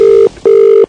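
Ringback tone on a phone call placed by a radio prank show: two loud, steady electronic tones with a short pause between them, alone with no voices.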